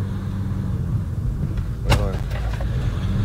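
Over a steady, close engine rumble from inside a tuned Renault Kangoo van at full throttle, people talk, and a sharp click cuts in near the middle.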